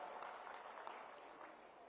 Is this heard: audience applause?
yes